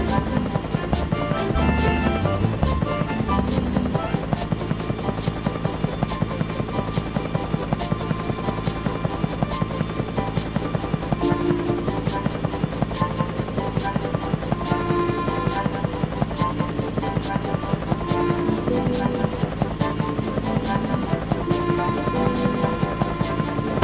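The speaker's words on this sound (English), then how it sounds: "There's a biplane flying near you." A biplane flies nearby over an animated railway scene, its propeller engine giving a steady, pulsing drone that carries on unbroken from start to finish.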